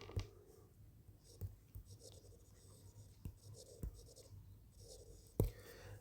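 Pen or chalk writing on paper or board while working a maths exercise, quiet scratchy strokes in short bursts with soft taps, faint whispery voice in the background.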